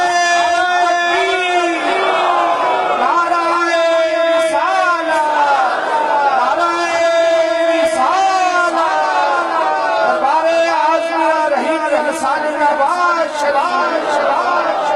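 A large gathering at a religious naat recital roars back in answer to a slogan chant, loud massed voices rising and falling in repeated waves.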